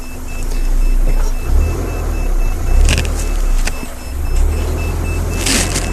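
A vehicle battery alarm sounds on a live safari drive, a steady tone running through the clip over the low rumble of an idling vehicle, with a few sharp clicks and knocks.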